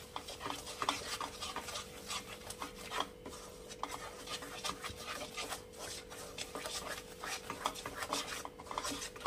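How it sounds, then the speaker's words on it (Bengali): A spoon stirs a condensed milk and sugar mixture in a pan, giving a continuous soft scraping and rasping with a steady rhythm, fairly quiet and close, without talk. "এটা চিনিটা গলে যাওয়া পর্যন্ত, ডিজলভ হয়ে যাওয়া পর্যন্ত আপনাকে এটা ক্রমাগত নাড়াতে হবে"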